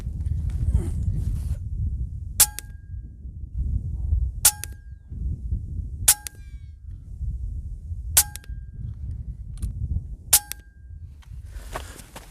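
A Hatsan Nova .177 air rifle fires six sharp, ringing cracks spaced roughly two seconds apart, each one short and close over a low rumble of handling noise.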